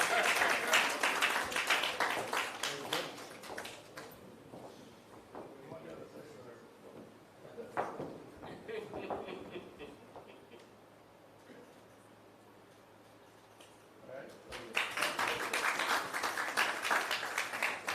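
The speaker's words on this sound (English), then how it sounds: "That's a moment for you to clap." Conference audience at a national health research event claps in bursts, loud applause at the start and again near the end, with a quieter stretch between where a voice speaks over scattered clapping.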